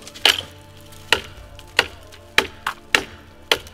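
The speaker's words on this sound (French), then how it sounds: "On peut même couper le bois." A survival knife chops into wood with about seven sharp, separate strikes at an uneven pace, each a crisp close thwack with a short decay.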